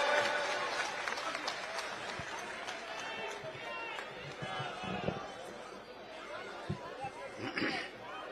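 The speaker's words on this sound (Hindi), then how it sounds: "भगवान मान जी, जोरदार तालियां हो, लगे कि छतरपुर में आए हुए हैं।" A crowd at an election rally in Chhatarpur, Delhi, breaks into applause and chatter, a busy, continuous mass of clapping and voices with a few louder bursts.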